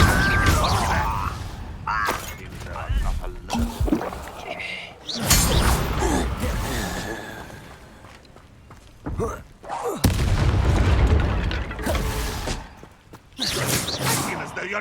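Incendio fire spell cast in Hogwarts Legacy combat, loud whooshing bursts and booming impacts in repeated waves, with a character's voice talking over parts of the fight.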